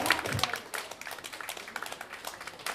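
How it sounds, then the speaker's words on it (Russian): Scattered applause from a concert audience in a hall: loose, uneven clapping of moderate strength that thins out across a few seconds, with a faint voice underneath. "А где аплодисменты, пожалуйста?"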